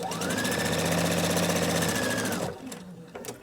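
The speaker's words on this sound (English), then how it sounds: "I'm just keeping my fabric lined up next to my foot. That way I have straight stitches." A sewing machine runs steadily, stitching fabric for cloth napkins, with a loud continuous mechanical whir for about two and a half seconds before it stops, leaving faint handling noises.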